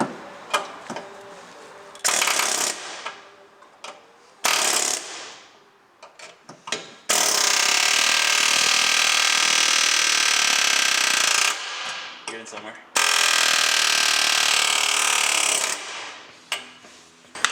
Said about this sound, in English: We're trying to get two relief cuts and then chip it through the air hammer once again.